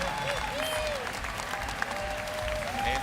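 A crowd at a Tekken 8 fighting game tournament applauds steadily throughout, with cheers mixed in and a commentator talking over it.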